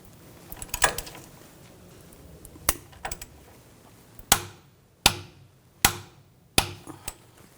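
Ratchet and wrench work on the outer tie rod nut of a 2000-2006 BMW X5, a series of sharp metallic clicks and clunks, with several distinct strikes spaced about a second apart toward the end.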